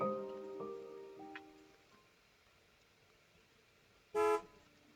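A moving truck arrives and sounds its horn in the video game Carry Onward: one short, loud honk stands out near the end, after fading engine and tonal ambience, with no talking.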